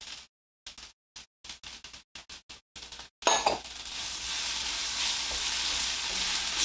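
Garlic drops into a hot shakshuka pan with tomato paste and bursts into a loud, steady sizzle after a run of short clinks and scrapes of a utensil, close up.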